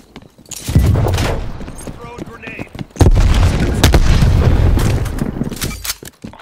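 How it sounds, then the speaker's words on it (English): Grenade blasts and gunfire in a Call of Duty Black Ops Cold War beta match, two heavy booms about two seconds apart followed by scattered shots, loud and close, with a game voice calling out. "Heads up, friend. Throwing grenade."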